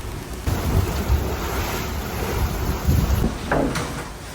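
Heavy sea water washes and crashes over the windows of an HH52 catamaran under way, a loud continuous rushing surge with a couple of stronger thumping swells, and no talk.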